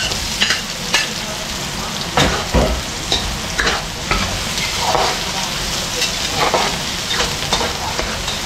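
Onion and garlic sizzle in hot oil in a pan, a steady close frying crackle broken by repeated scraping stirs of a utensil.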